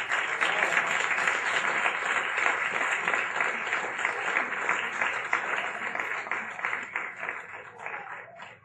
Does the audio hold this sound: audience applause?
yes